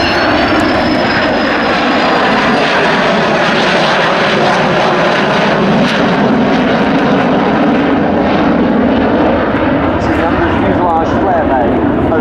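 A Canberra PR9 jet aircraft flies a 360-degree turn with gear down at an RAF Waddington air display, its loud engine roar steady and continuous with a slow rise and fall, and a commentator talks over it.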